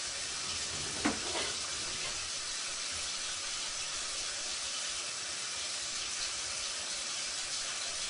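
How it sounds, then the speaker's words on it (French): Water runs from a tap into a washbasin as a steady, even hiss, with one brief knock near the start and no voices. "Nous faisons couler au niveau du lavabo."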